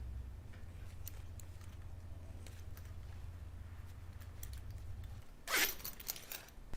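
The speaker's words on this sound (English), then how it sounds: "pull on a slide from the left, insert the tape from the right, hold on to the tape, and pull down on our slide" A zipper slide is pulled down onto fabric zipper tape, giving one short, close, raspy zip after a stretch of quiet handling and low background hum.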